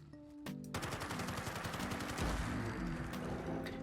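A Steyr AUG rifle with a fully upgraded automatic receiver in Fallout 4 fires one sustained burst of rapid automatic shots lasting around three seconds, dense and continuous, with no voices.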